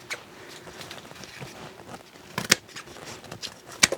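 C.Jet industrial shears snip through thick multi-layer material, giving a couple of sharp, brief cutting clicks over a faint background rustle, close, with no talking.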